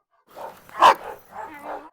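A few short barks and yips from Cane Corso puppies, one louder bark in the middle, close by with quiet gaps between.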